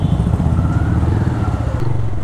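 Motorcycle on a road, its engine a loud, close, steady drone for about two seconds with no talk.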